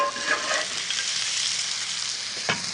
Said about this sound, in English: A little bit of oil in the non-stick pan.